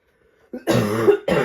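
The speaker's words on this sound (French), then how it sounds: "J'ai une toux qui ne me lâche pas." A woman coughs and clears her throat in a quick, close burst of two rough bursts, the second short, with no speech over it.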